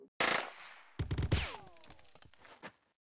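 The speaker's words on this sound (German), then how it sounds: "Hat zwar mehr Schüsse als beabsichtigt gefeuert" Machine gun bursts in the Jagged Alliance 1.13 video game: a sharp rapid volley, a short pause, then a second burst of several shots trailing into a ringing ricochet-like tail, crisp and close with no talk.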